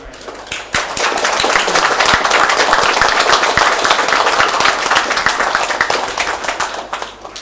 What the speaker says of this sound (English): So big applause for the organizers.